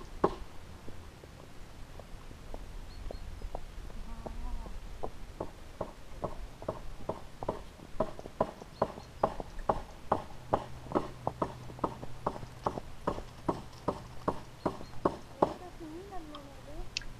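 Horse trotting on an arena riding surface, with a steady run of muffled hoofbeats that grows sharper and more regular, close by and moderately loud over a low background hum.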